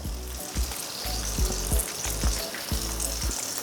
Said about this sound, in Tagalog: At piniprito ko lang to sa medium temperature.